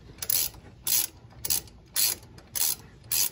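A ratchet tightens brake bolts on a Ford E150 during a front rotor and brake pad job, six quick clicking bursts evenly spaced with short pauses between, close and fairly loud with no talk.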